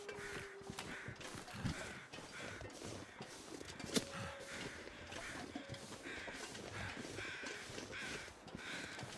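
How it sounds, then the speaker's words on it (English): Several crows caw repeatedly in the snowy wilderness of Great Bear Island in The Long Dark, their calls coming in steady bursts over continuous wind and ambient noise, with soft footstep-like crunches underneath. "Imagine hearing some crows on Great Bear Island."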